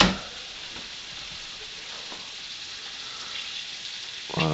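Hedgehog mushrooms frying over medium-low heat in an iron skillet, giving a soft, steady sizzle with faint crackles throughout and a louder clatter of stirring at the very end.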